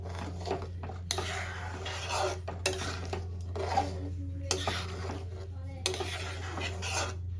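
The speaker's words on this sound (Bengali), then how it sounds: "এবার আমি একটা পাত্রে ঢেলে নেব।" Katla fish head curry cooked with elephant yam is ladled from a pan into a bowl, with spoon scrapes and metal clinks in short bursts over a steady low hum.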